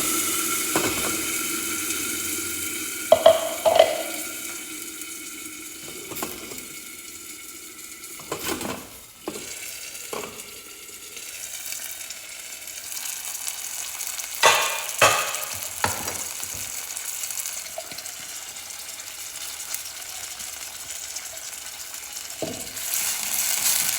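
Cumin seeds and ground paste frying in a pan, a quiet steady sizzle broken by sharp clatters and scrapes of stirring utensils against the pan at irregular intervals, no voices.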